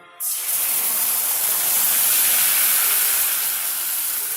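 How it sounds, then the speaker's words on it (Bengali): Spice paste of ginger, garlic, onion, green chilli and cumin powder hits hot oil with a sudden loud hiss that holds as a dense, steady sizzle without fading. "এবার এই তেলের মধ্যে আমি দিয়ে দেবো মশলাটা"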